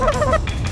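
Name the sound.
Canada geese honking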